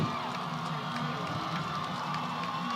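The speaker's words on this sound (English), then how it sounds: "fans are getting hyped. This is the loudest this crowd has been all year" Football game crowd at Baker vs. McGill cheering and shouting in a steady, dense roar that holds loud and continuous throughout, with scattered claps and yells.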